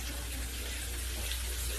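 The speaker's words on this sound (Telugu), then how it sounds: "చికెన్ని బాగా కడుక్కొని పెట్టుకోవాలి." Tap water runs steadily while raw chicken is washed under it, giving a faint, continuous splashing hiss with no other sounds.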